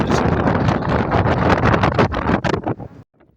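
Strong wind roars and buffets the microphone in loud, gusty bursts at a hilltop rock viewpoint above a river near Peerumedu, then cuts off abruptly near the end.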